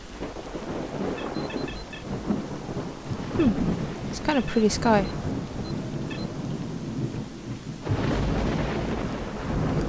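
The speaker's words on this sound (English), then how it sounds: "Oh, it's raining so much." Torrential rain and thunder rumble on in S.T.A.L.K.E.R.: Shadow of Chernobyl, with a player briefly talking over the downpour midway before the storm swells louder near the end.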